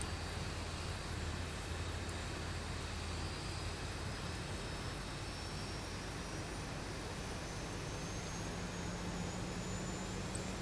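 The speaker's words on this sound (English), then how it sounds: "Starter cutout. Engine start procedure complete." A jet aircraft engine on a flight from Brussels South to Bordeaux-Mérignac drones steadily as it spools up, giving a constant broadband roar with a faint rising whine. The sound is heard from inside the aircraft and holds even throughout, with no talk.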